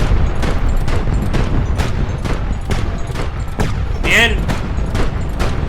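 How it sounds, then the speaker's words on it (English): Ground-based flak guns firing at an airship in Highfleet, a steady string of booming bursts at a regular pace, loud and dense, with someone talking over them. "units on the ground firing at us, of course. We've got some actual flak."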